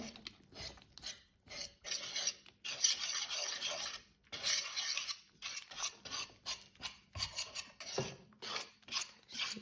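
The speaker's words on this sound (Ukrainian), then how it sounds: "Ось таким вінчиком дуже удобно, дуже зручно замішувати житній, житній хлібчик" Wire whisk mixing rye sourdough bread dough in a bowl, giving a steady series of close, scraping rasps in an uneven stroking rhythm, with no voices over it.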